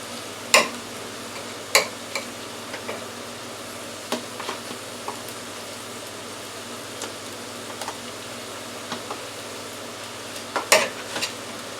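Beef cut from a T-bone steak sizzles in a pan for Chinese-style beef fried rice, a continuous frying hiss broken by sharp clicks and taps of a utensil.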